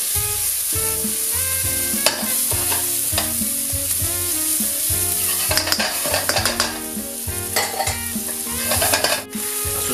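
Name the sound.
garlic and onion frying in a pan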